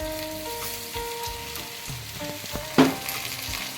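Onions and tomatoes fry in a pan with a soft, constant sizzle near the mic, a low hum underneath, and one sharp clank of a utensil against the pan partway through.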